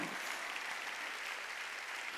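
A church congregation at a Sunday worship service claps together in dense, continuous applause, steady and even throughout without any voices rising above it.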